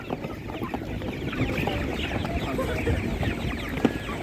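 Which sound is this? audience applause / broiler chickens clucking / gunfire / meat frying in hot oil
broiler chickens clucking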